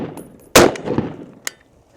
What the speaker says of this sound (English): I'm gonna just shoot in the berm.